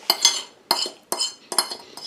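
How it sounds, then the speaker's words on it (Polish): Cutlery scraping potato skin off a plate, four distinct scraping strokes in a steady rhythm, close and fairly loud with short pauses between. "Chyba słyszeliście, jak skrobię."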